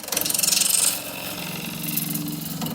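A woodturning gouge makes peeling cuts across an endgrain bowl on a lathe, giving a close rhythmic rasping shear with a louder first burst that eases and then builds again.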